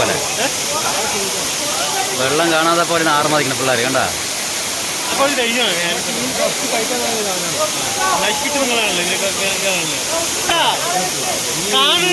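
A waterfall at Kollengode, Palakkad gives a steady, loud rushing hiss throughout, with people talking over it.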